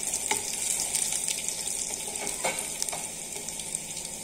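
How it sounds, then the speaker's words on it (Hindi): Ginger sautéing in a pan over garlic already browned, a steady close sizzle with a few brief clinks of a stirring spoon, no voices. "अदरक को भी 1 मिनट के लिए भून लेंगे"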